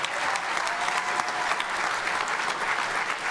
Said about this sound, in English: Another round of applause, please, for Tony Mendez.